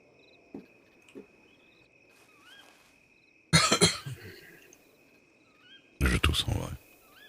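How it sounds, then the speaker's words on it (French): Two loud bursts of harsh coughing from one nearby person, each lasting about a second, with a steady cricket chirp and faint murmurs behind them. "Je tousse en vrai."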